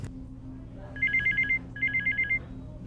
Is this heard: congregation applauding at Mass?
no